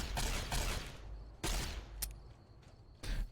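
Gunfire in Fallout: New Vegas, several loud close bursts of rapid shots separated by short gaps, with one sharp isolated crack in between and a final burst at the end.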